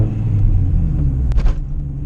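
Honda Integra Type R with a harsh clutch, a steady low engine rumble broken by a short burst of sharper noise as the clutch takes up, heard close from inside the car.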